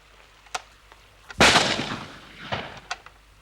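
Rifle shot during a target-shooting contest at a big rock: a single sharp loud crack with a rolling decay, surrounded by a few faint clicks and light taps, no speech.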